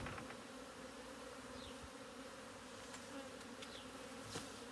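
Honeybees swarm around a hive frame during colony inspection, a close, continuous buzzing hum with a few louder passes of individual bees.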